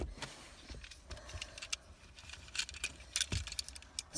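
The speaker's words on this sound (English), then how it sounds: "I need to get the keys out of my pocket" Car keys for a 2017 MINI Cooper 5 Door being pulled from a pocket, jangling in quiet intermittent bursts of metallic clinks, close by, with a soft thump or two in between.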